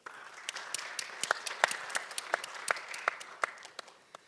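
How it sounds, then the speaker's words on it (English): Steady conference audience applause at a judicial policy research institute international event, continuous scattered claps with sharper individual hand claps standing out, moderately distant and filling the room without speech. "Please give him also a big applause."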